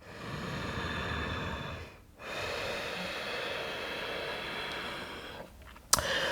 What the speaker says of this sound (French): Peut-être qu'elle est purement abdominale en laissant l'air passer et ressortir par les narines.